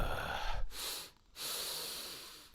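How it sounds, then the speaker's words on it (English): A person performs a double breath through the nose: a short sniffing inhale, a pause, then a long, steady nasal inhale that flows into a sigh. The breathing is close and clear, with no talk. "a short inhale through the nose and then a long inhale through the nose with that sigh at the end"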